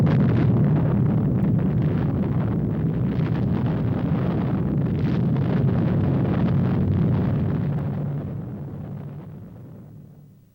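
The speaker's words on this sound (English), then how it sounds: "This is the largest chemical explosion ever deliberately detonated." A deliberately detonated chemical explosion of 100 tons of high explosives gives a sustained, heavy roaring rumble that holds steady and then slowly fades away.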